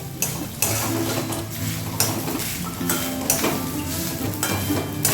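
Grated coconut fries over low heat in a pan with kochu loti, giving a steady sizzle broken by repeated scraping strokes of a spatula against the metal.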